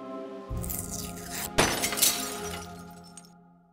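Bird striking a stained glass window in the Deponia Doomsday video game, a sudden loud shatter of breaking glass over a sustained musical drone, with tinkling fragments fading away.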